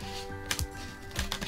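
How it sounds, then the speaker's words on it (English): Scissors snip through a vinyl backing sheet during a Cricut craft project, giving two crisp close cutting sounds over a quiet room hum. "get my scissors, and I'm going to cut off this portion"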